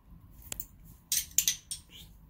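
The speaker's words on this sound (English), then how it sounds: "We got some spoons." Small metal measuring spoons, quarter and half teaspoon sizes, clink and rattle against each other in a few light, sharp jingles, close up and fairly quiet with short pauses between handlings.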